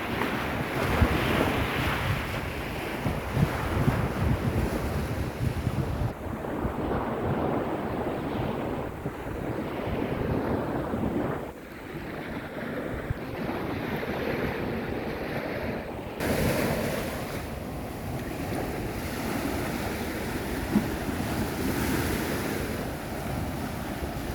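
Waves wash against a Mekong River beach in the evening as strong wind buffets the microphone, a continuous roaring surge with no voices.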